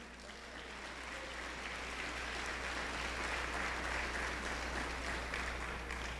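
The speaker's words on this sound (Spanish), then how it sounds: "denle un aplauso al Señor" Church congregation applauding during a sermon, faint, distant clapping that swells slightly midway, with a steady low hum beneath it.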